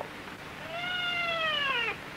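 A cat in a 1936 Japanese period film gives one clear, drawn-out meow that rises and then falls, close and alone over faint background hiss.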